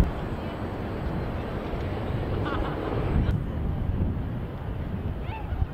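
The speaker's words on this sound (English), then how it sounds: "The wind took my hat away." Strong, steady wind roars and buffets a microphone outdoors at Hudson Yards in New York City, a constant broadband rush that swells slightly midway and continues throughout.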